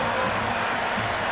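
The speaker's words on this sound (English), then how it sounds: "the crowd have joined the party. It's pretty noisy at the ground." Dense crowd noise fills a cricket ground in the video game Cricket 26 during an IPL match, a steady loud roar of cheering and applause with no break.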